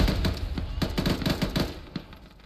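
Rapid, sharp bursts and cracks of gunfire and a frag grenade blast in an Arma firefight played by ShackTac, close and loud in a dense rattling cluster that thins out near the end.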